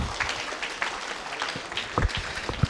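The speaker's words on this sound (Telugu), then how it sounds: "ఒకసారి గట్టి క్లాప్స్ అండి భాగ్యనగర్ ట్రస్ట్ వాళ్ళకి." Audience applause for the Bhagyanagar Trust at a Patriji Day celebration gathering, a steady wash of many hands clapping at moderate distance with a few sharper claps standing out.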